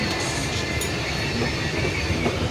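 Passenger train running on the main line between Tiruchirappalli and Thanjavur, a steady loud rumble of wheels on track with constant low roar and faint high rail hiss, no talking.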